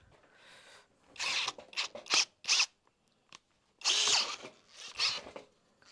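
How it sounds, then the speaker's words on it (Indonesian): A Dongcheng DCJZ2040i13 power drill with a spade bit whirs in several short bursts separated by pauses while boring a deep hole, close and fairly loud, with no talking. "ngebor sedalam ini menggunakan mata bor kipas"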